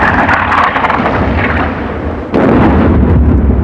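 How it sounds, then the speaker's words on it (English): German artillery preparatory fire rumbles in a war film, a dense, loud barrage of booms and thunderous crumps with a heavier burst near the end. "Seems like preparatory fire."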